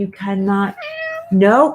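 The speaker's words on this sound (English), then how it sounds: "She's smacking me, and I'm sure you guys can hear her meowing." A cat meows three times in quick succession, close and clear, with rising and falling pitch and short pauses between calls, while someone speaks alongside.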